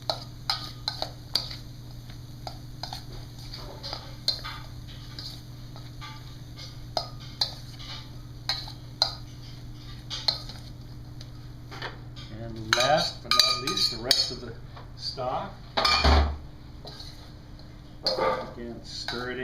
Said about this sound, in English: And stir it in real good